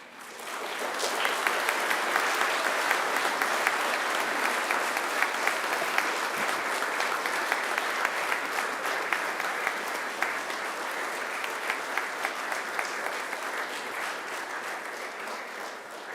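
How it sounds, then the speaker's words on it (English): A graduation audience applauds steadily, a dense wash of many hands clapping at a sustained, moderately loud level for the whole stretch, fading slightly toward the end. "This is your chance to give them a round of applause."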